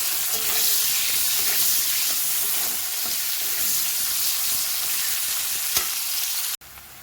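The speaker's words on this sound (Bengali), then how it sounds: "পেঁয়াজটাকে লাল লাল করে ভেজে নেব।" Chopped onion, one large bulb, fries in a pan to a reddish brown, giving a loud, steady, close sizzle that runs throughout before stopping abruptly near the end.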